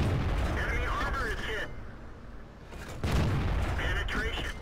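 Tank cannon fire from the Spahpanzer SP 1 C in World of Tanks, heavy booming shots with rumbling tails, close and loud, repeated over a dense battle ambience.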